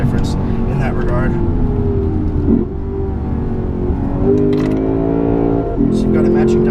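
A 2016 Lexus GS-F engine pulls steadily along a curvy road, its note rising and falling with matched downshifts into corners, loud and continuous beneath someone talking throughout.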